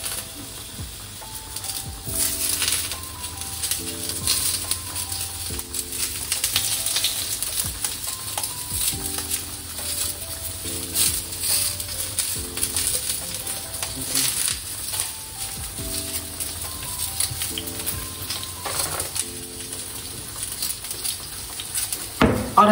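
Zucchini sizzles on a grill, a steady, crackling hiss beneath soft background music, with occasional clicks and taps.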